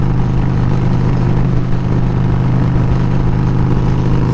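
2004 Harley-Davidson Dyna Super Glide FXDI motorcycle engine pulling up a grade, a loud, steady, deep rumble that holds without a break throughout.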